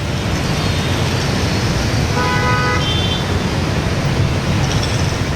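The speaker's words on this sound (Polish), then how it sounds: "Kierowcy ciągle trąbią, ale nie po to, aby kogoś przegonić" Busy road traffic, mostly scooters, rumbles steadily in Vietnam while a couple of short vehicle horn toots sound midway through.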